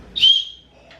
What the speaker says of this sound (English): this backpack's got a whistle which can actually come in really handy